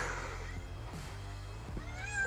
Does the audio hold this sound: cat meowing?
yes